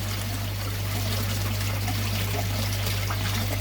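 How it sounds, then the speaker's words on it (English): Water flows steadily from a pipe outdoors, a continuous soft trickling rush with a low steady hum underneath, constant and unbroken throughout. "the water's flowing okay"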